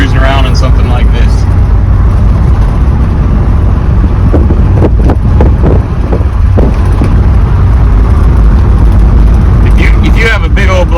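A 1956 Chevrolet Nomad cruises along, with low engine rumble, road noise and wind filling the cabin beneath steady conversation.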